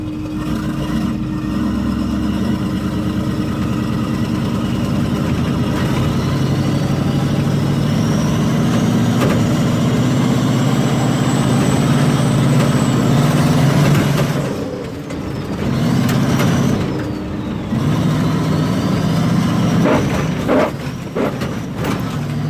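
A homemade turbo car engine runs loud and close with a steady idle rumble and a rising whine, dips briefly midway, then picks up again with some revving toward the end.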